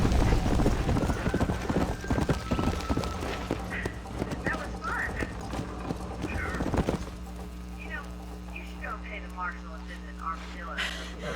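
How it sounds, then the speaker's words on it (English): Horse hooves clip-clop at a gallop in the Western video game Red Dead Redemption, loud and rhythmic for about seven seconds, with whinnying, then a calmer stretch of softer ambience and brief voices. "Oh, caballo."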